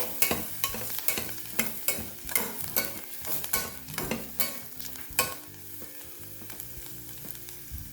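Dhana-jeeru and garam masala sautéing in a pan over a slow flame for undhiyu pulao: a soft, steady sizzle with repeated stirring scrapes at a regular rhythm, close and fairly quiet, with no voices.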